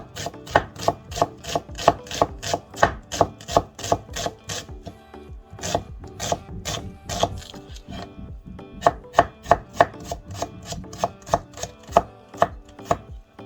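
Half a medium onion sliced thinly with a knife on a board: a fast, even run of sharp close chops, pausing briefly midway before resuming at the same brisk rhythm.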